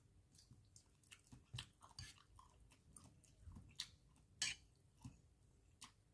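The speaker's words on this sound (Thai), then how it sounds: "เคี้ยวคำนี้ก่อนนะคะ" Someone chews a mouthful of food close to the microphone, with wet, irregular crunching and squishing bites repeating over several seconds in a quiet room.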